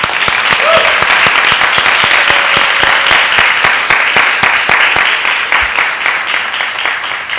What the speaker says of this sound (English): So once again, I think we owe her a hand of applause.